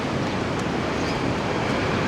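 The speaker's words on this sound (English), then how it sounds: "ocean is very rough" Rough ocean surf along the shore at Da Nang, Vietnam, a day before Typhoon Fengshen, a loud continuous rushing wash of waves mixed with gusting wind noise, with no break in the roar.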